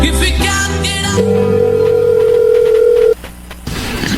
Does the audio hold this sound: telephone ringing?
yes